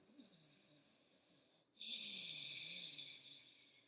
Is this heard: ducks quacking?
no